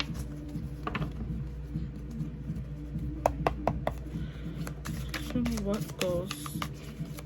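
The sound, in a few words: shuffling tarot cards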